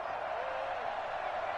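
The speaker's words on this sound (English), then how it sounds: "Crowd getting in it a bit already." Madden 21 stadium crowd noise forms a soft, steady murmur beneath a commentator's talk, a distant, continuous roar throughout the short stretch.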